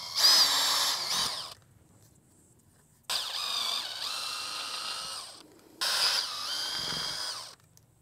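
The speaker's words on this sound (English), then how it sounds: "So let's go ahead and get that drilled out." Power drill boring holes in a Honda Grom fender eliminator bracket: three separate bursts of high-pitched whirring, each a few seconds long, with quiet gaps between them and no talking.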